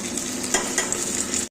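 Mustard seeds, dried red chillies, curry leaves, cumin and pepper powder crackle in hot oil in a pan, a close, busy sizzle with sharp popping spatters throughout, ending abruptly in silence.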